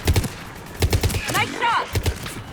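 Rapid gunfire in Mass Effect 3 rings out in clustered bursts of sharp shots, with a short stretch of voice speaking between the volleys.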